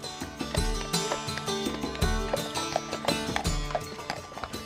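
Heavy Breton draft horse hooves clip-clop in a steady, close rhythm over a dense, continuous background.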